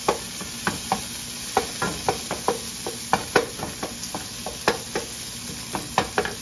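Onions and tomatoes sauté in a pan with olive oil, a soft continuous sizzle punctuated by a steady run of sharp utensil clicks and scrapes against the pan.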